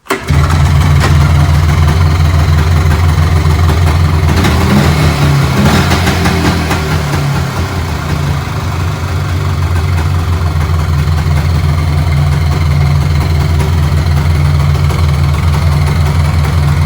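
A 1992 Polaris 350 2x4 ATV engine, unused for over ten years and fitted with a new carburetor, catches and settles into a loud, close, steady idle with a low, throbbing rumble.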